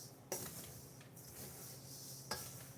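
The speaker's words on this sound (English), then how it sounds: "I'll give that a stir" A bath salt mixture is stirred by hand in a container, making a soft continuous scraping with two sharp clinks, one near the start and one near the end.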